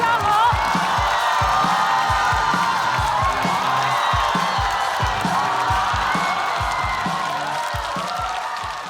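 A comedy-show audience claps and cheers steadily for a stand-up comedian, the dense applause filling the room with scattered whoops and fading slightly toward the end.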